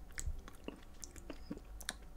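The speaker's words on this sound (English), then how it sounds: "It's hard to chew though, I don't know why." Someone chews a thick hamburger up close, with soft, wet, irregular bites and squelches repeating quietly and steadily, and no voices.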